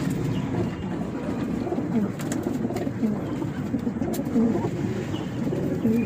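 Pigeons at an outdoor pigeon sale in Mallickpara, Ankurhati, coo continuously in a dense layered chorus of low, throaty warbles. Several birds overlap at once, steady and fairly close, with crowd noise murmuring underneath.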